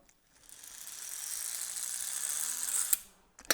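A Lego gear crank turning a propeller mechanism, a quick whirring spin-up heard close by that builds, holds steady and stops with a click, no one speaking.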